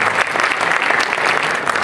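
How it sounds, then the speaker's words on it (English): An audience at an evening presentation gives a round of applause for a panel of speakers. Thick, even clapping from many hands fills the brief moment at a loud, steady level. "can we get another round of applause for all of our panelists?"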